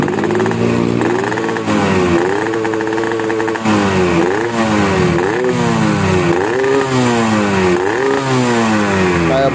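Yamaha RX King two-stroke motorcycle with a modified exhaust, packed with glass wool: repeated loud, close revs that rise and fall over a steady buzzing idle.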